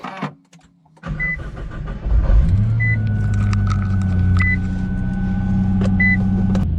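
A Nissan 240SX with a swapped RB25DET engine starts and settles into a steady, loud idle close by, a clear cabin chime repeating every second or so, with no talk.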